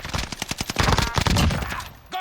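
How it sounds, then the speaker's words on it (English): Semi-automatic gunfire from the Warzone video game cracks in a rapid run of loud, close shots that blur into a dense volley, followed by a brief voice at the end. "Been hit by some sort of semi-auto something."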